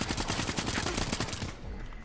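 Rapid pistol fire in a first-person shooter game crackles as a dense, loud burst of shots for about a second and a half, then cuts off into a quieter tail.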